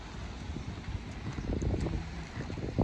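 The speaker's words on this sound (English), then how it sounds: "it's kind of windy down here." Wind gusts buffet the microphone at a lakeside beach, a steady low rumbling roar with swelling bursts toward the end, loud and close with no voices.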